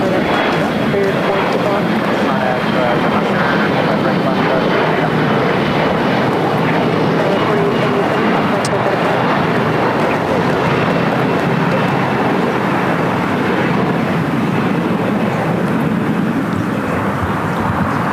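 Aircraft at LAX on runway 25 left, a steady broad engine roar lasting the whole stretch, loud and continuous with a faint high whine, as a jet or airliner powers up for takeoff; radio-style voices talk over it.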